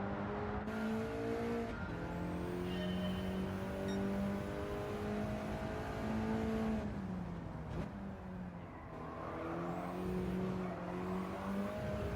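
A race car engine in a racing video game revs up and down as the throttle opens and lifts. Pitch climbs and drops through several gear changes in a loud, continuous drone.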